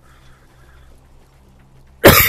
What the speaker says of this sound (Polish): Przepraszam, ale jeszcze trochę mnie męczy kaszel.